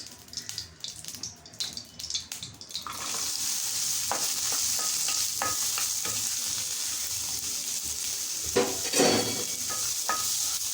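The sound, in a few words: onions frying in oil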